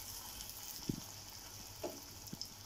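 Garlic fries in hot oil for a dal tadka tempering, giving a steady quiet sizzle with a few soft clicks and pops, close by and with no voices.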